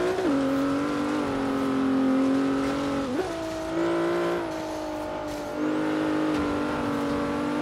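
A race car engine in Forza Horizon 3 drones loud and close, its pitch climbing and dropping with gear changes and brief lifts off the throttle on the first lap.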